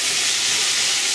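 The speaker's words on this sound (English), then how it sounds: "Starting to bubble a little bit." A pot of okra and tomatoes cooking for kadai bhindi gives off a loud, close, unbroken hissing bubble with no pauses.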